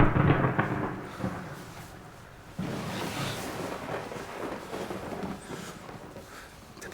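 Thunder during a thunderstorm, a heavy low rumble that fades, then a second roll that breaks in sharply and keeps grumbling to the end.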